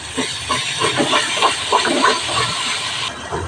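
Sour yogurt is stirred in a hot pan, giving a close, steady hiss and sizzle broken by quick scraping strokes in a loose, repeating rhythm.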